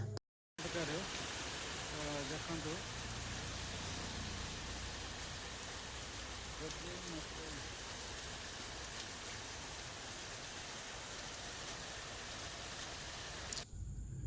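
Rain falling steadily in Odisha, a dense continuous hiss of drops on surfaces that stays loud for the whole stretch, with faint voices beneath it.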